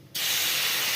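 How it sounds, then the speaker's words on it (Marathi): Milk pours into a hot pan for rice kheer and bursts into a sudden loud, steady hiss of steam and sizzle that holds for the rest of the moment. "त्यात टाकणार आहे आपण दूध."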